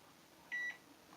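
A microwave oven gives one short, clear electronic beep as its timer is set, standing alone over a quiet kitchen hum.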